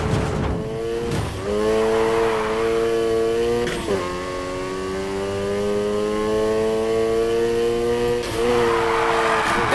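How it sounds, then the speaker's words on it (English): Car drifting in Need for Speed Heat, engine revving loud and steady with rising and falling pitch throughout, brief shifts around the second and fourth seconds, tire squeal and skidding under the constant engine roar. "First up, let's hit a basic drift"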